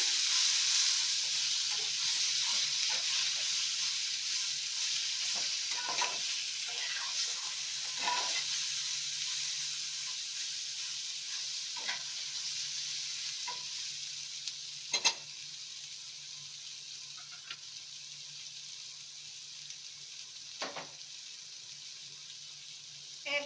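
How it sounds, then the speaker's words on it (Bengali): Mango pieces stirred into hot spice tempering in a pan, a soft steady sizzle and hiss that slowly fades, punctuated by occasional scraping clinks of a spatula, no voices. "ফোড়নটা হয়ে গেছে এবার আমি এর মধ্যে আমটা তুলে দেব এইভাবে নাড়াচাড়া করে নিলাম"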